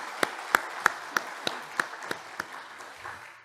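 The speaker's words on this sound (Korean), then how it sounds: "우리 함께 격려와 영광의 박수를 드리겠습니다" A church congregation applauds after an Easter choir performance: about ten sharp, evenly spaced claps that gradually fade, heard alone in a reverberant hall.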